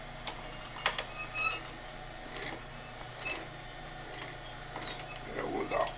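A sewing machine back stitches a garment lining in quiet, short bursts of rapid mechanical ticking and clatter, with a soft voice heard in the room.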